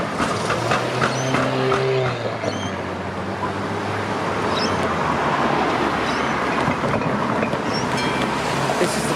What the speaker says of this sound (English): There goes a couple of trams across the